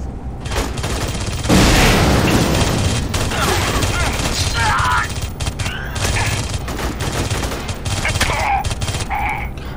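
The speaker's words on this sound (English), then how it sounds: "How's this freaking submachine gun work?" Rapid bursts of submachine gun fire in a video game, loud and close, repeated through the stretch with a heavy boom early on, mixed with game effects and someone talking over the action.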